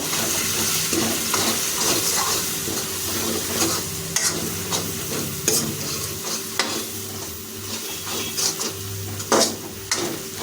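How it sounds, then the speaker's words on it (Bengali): Turmeric and chilli powder being stirred with a metal spatula in a frying pan of chicken skin and pea ghugni, a steady sizzle broken by repeated scraping strokes, close and fairly loud, with no talking. "তাই এটাকে খুন্তিতে কিছুক্ষণ নাড়িয়ে নেব"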